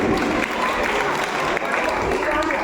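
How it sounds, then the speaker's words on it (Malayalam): A room full of people at a church gathering claps together in sustained applause, dense and steady, with a few voices mixed in. "ഒരു big clap. All of you please"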